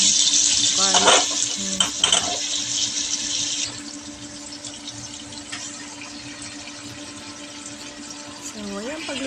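Shrimp frying in olive oil with garlic, a loud broadband sizzle for the first few seconds that settles into a steadier, quieter crackle, with brief clinks and faint voices underneath.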